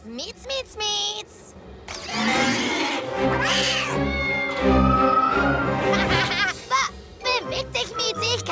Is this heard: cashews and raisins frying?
no